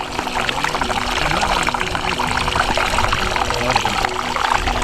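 Mineral spring water runs and trickles continuously in the Potohar hills near Chakwal, close and fairly loud, with a steady splashing wash throughout.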